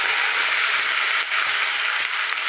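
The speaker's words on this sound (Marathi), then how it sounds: "दोन तेजपत्ता थोडीशी कोथिंबीर एक चम्मच जिरा अग लसूणची पेस्ट चांगलं भाजून घ्यायचं" Garlic paste with bay leaves, cumin, asafoetida and coriander frying in hot oil for a Maharashtrian suran (yam) curry, giving a steady, loud, dense sizzle throughout with no talking.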